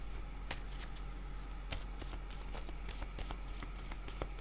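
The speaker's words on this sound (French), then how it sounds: "Je vais déposer une carte sur colère pour voir où est-ce qu'on en est." Tarot cards handled and laid on a table, giving a run of crisp, close papery flicks and taps over a steady low background hum.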